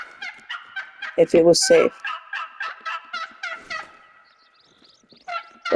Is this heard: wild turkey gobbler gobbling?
yes